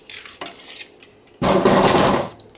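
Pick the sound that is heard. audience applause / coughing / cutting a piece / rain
cutting a piece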